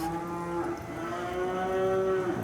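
A cow at a cutting horse event lets out a single long, loud, close moo with a steady droning tone lasting over two seconds.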